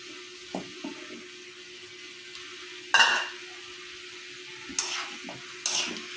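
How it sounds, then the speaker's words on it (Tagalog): Potatoes stirred into pork adobo frying in a pan, with a steady low sizzle and a few sharp scraping stirs and clatters of the utensil against the pan. "Halo na natin yung para sumabay siyang lumambot kasi medyo matigas to yung patatas."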